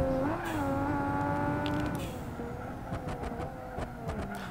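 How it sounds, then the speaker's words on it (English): Bus engine droning and shifting tone in the BeamNG driving game, with a run of sharp crackling backfire pops in the second half over the steady motor hum. "I feel like there's a new backfire noise."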